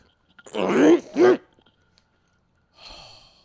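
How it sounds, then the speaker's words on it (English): A person clears their throat with two rough, guttural bursts close to the microphone, followed by a soft breathy exhale. "Let me clear my throat."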